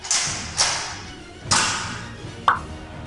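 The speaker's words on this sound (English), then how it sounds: "that's how you launch our Elite NERF darts from our NERF gun right here" A Nerf Elite 2.0 Shockwave RD-15 toy blaster fires foam darts, with several sharp thumping shots near the mic: three firm pops spaced about a second apart, then a quicker, sharper snap at the end.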